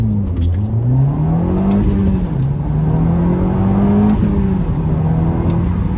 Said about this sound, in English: Alright, let's quickly do a launch here.